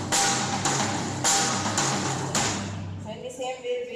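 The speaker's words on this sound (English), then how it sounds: "for fill we'll play the first and third quarter note on snare and left on the high tom and right on throat tom." Drum fill across snare, high tom and floor tom at a drum workshop, a few loud strikes rolling down into deeper tom hits, close and ringing, with a brief bit of talk at the end.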